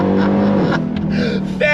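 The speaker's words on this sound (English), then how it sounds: "Hit the launch control button, left foot on the brake, right foot on the throttle." A 2024 Dodge Durango Hellcat Black Edition SUV with an 8-speed automatic launches hard, its loud engine roar climbing, dropping briefly and rising again near the end. Voices from the cabin sit over it.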